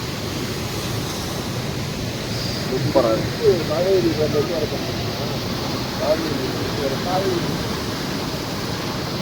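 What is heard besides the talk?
Hogenakkal waterfall, water rushing down from the top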